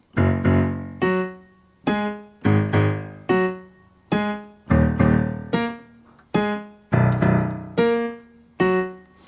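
Piano chords from a song, played with a simplified right hand using only the outer notes, about a dozen steady sustained strikes, each decaying before the next, with no voices.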